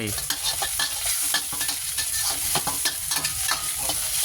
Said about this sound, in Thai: ใส่กระเทียมที่เราสับลงไป ผัดได้เลย